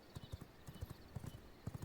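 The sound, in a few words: horse hooves clip-clop while riding in V Rising video game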